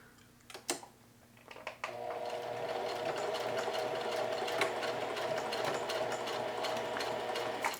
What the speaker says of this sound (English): I'm going to put that on straight stitch. Just give that a bit of a lock.